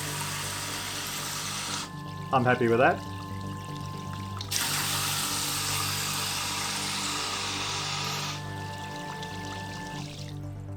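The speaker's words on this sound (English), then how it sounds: "So I've put some water in the bottom of the jerry can, flick on the switch," A homemade 12V pump in a jerry can switches on and pushes water out, giving a steady gushing flow that starts and stops in sections, with someone speaking briefly over it.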